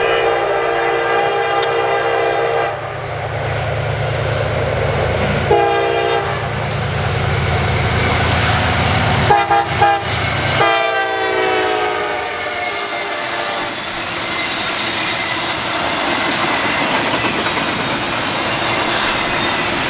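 Freight train IO-20 trailing a YN2 car approaches, its horn sounding in long repeated blasts over the rising rumble and clatter of passing wheels, loud and close, with no talk.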